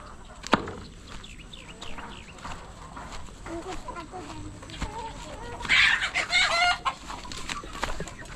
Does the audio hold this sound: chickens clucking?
yes